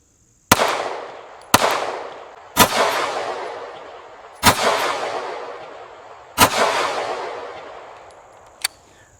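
Hellcat 9mm pistol fired into an outdoor berm: six sharp, loud shots at irregular intervals, each trailing off in a long echoing decay, the last one quieter.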